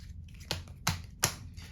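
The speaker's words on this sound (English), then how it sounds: "You can even see the different letters get mixed as I shuffle through them." A deck of letter cards being shuffled by hand, three sharp riffling bursts spaced about a third of a second apart, close and fairly quiet, with no voices.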